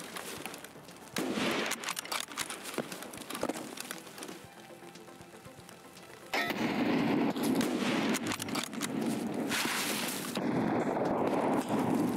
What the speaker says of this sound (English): Taking the shot. Start shooting if you can, Red.